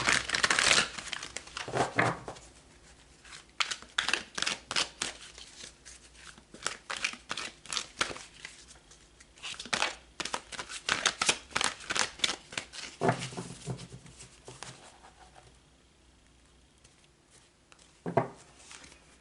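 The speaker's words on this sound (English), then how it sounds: "let's pull some cards for March" Tarot cards being shuffled and pulled for a monthly forecast, a close run of crisp riffling, snapping and papery rustles in uneven bursts, with no talk.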